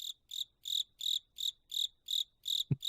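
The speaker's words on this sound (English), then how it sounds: "but I heard the first chirp. Crickets." Crickets chirp in a steady rhythm, about eight evenly spaced pulses, clear and close, followed by a couple of brief low thumps at the end.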